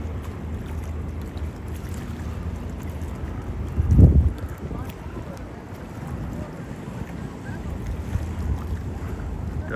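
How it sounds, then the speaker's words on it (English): An outboard-powered boat passes on a Fort Lauderdale waterway, its motor rumble swelling to a brief close peak and then fading under steady wind noise. "It's not a jet boat, it's an outboard."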